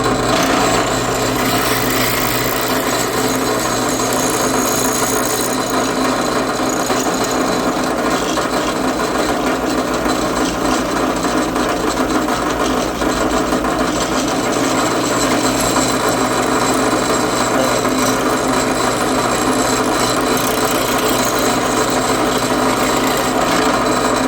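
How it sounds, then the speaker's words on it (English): A drill bit bores through a steel drive shaft with cutting oil, a steady grinding, scraping whir running continuously for the whole stretch at close range, with no talk. "Let the drill bit do the work."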